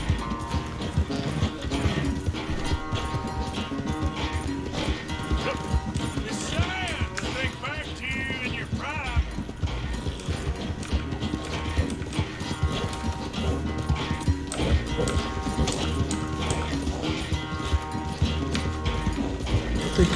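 A horse gallops in the video game Red Dead Redemption 2, with rapid rhythmic hoofbeats and occasional snorts running continuously beneath game music and someone speaking excitedly in Spanish.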